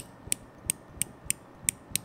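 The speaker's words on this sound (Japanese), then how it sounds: "なんという上質なノック音。" Crisp, regular clicks from the twist mechanism of a PLOTTER 2002 mechanical pencil with a knurled metal body, six evenly spaced ratcheting clicks heard close up and alone.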